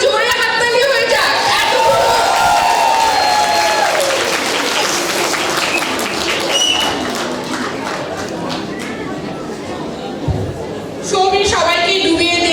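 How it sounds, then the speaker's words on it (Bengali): Loud, sustained audience applause for a dance performance at a 2025 Jalsha event in Ottawa fills the middle, with a person talking over the start and end. "নাচের জন্য একটা জোরে হাততালি হয়ে যাক"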